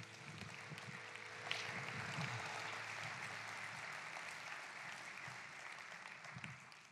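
A church congregation claps hands at a Christmas service: sustained, dense applause at steady moderate loudness throughout, with no talking over it.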